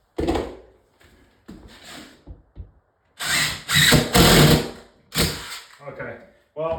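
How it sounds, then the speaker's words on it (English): A power drill drives screws through a 2x4 into a floor during closet framing in a bedroom remodel, with several loud bursts of high-pitched whirring separated by pauses and clunks, close by, with scattered talk in between. "screw the 2x4 into the floor"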